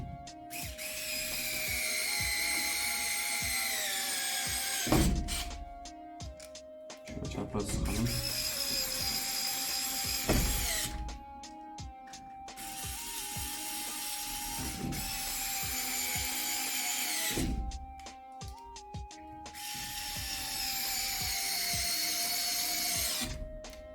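A Xiaomi HOTO electric screwdriver driving and loosening screws, several whirring motor bursts separated by pauses, with a mechanical clicking, close and moderately loud.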